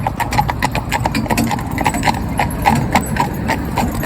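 Steady clip-clop of horse hooves walking at an even rhythm, close and fairly loud, with no voices.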